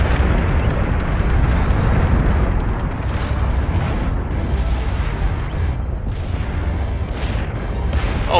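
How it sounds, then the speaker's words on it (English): A base ship blows apart in Battlestar Galactica Deadlock, heard as a sustained, dense roar of explosions and rumbling blasts with repeated bursts and crackles throughout, loud and continuous. "Alright, base ship destroyed."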